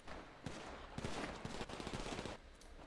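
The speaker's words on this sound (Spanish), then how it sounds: "Me disparan." Rapid bursts of gunfire in the video game GTA, with a dense spray of shots through the middle, steady and fairly loud, with no talk over it.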